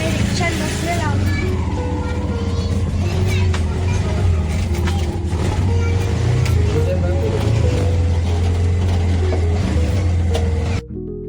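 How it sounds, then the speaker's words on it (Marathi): Ride inside a moving auto rickshaw, its engine droning steadily close by with road and traffic noise throughout, as people chat over it. "आता आम्ही रिक्षात बसलेलो आहोत."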